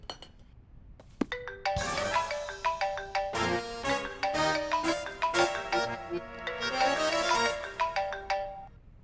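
A mobile phone ringtone plays a bright, steady electronic melody of quick repeated notes for several seconds, with no other sounds.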